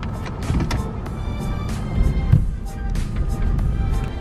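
An Infiniti Q45 drives slowly into a shop, its engine a low steady rumble with scattered clicks and creaks from the garage around it.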